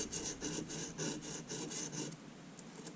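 A serrated bread knife is worked against a simple bench stone in a steady series of rasping strokes, about eight quick scrapes with an even rhythm before the sound thins out near the end, close and fairly quiet with no talking.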